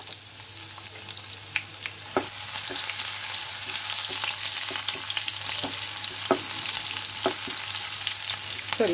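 Chopped onions and spices fry in hot oil in a home kitchen pan, a steady close sizzle with occasional stirring scrapes and clicks.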